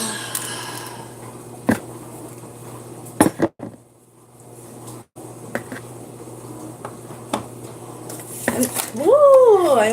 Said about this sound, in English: I almost dropped my blender.